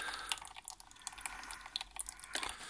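Small water drips falling inside a Nespresso Pixie coffee machine, with a string of faint, irregular light ticks and splashes close by and no talking.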